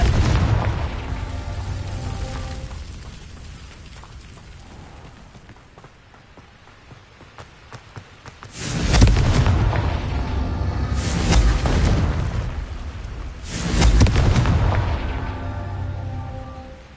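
Confringo blasting spells detonate in Hogwarts Legacy, producing two loud, booming explosions separated by a few seconds, each with a long rumbling tail, after a quieter stretch of ambient game sound.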